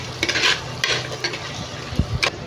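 A spatula stirs mutton curry with coriander powder in a pan, several scraping strokes over a low sizzle, close and fairly loud, with no talking.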